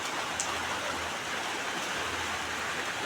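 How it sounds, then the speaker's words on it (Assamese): Rain falling outside, a steady, even hiss of rainfall heard at moderate distance with no voices. "কালি ৰাতিৰ পৰা আমাৰ ইয়াত বৰষুণ দি আছে।"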